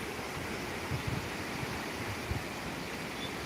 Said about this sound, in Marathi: या पाण्याला खूप वेग आहे